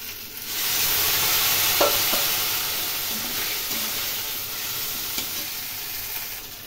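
Spices with cumin powder and a splash of water frying in a pan for a fish curry, a loud hissing sizzle that rises quickly and holds steady, with a few soft stirring knocks, close by and without voices.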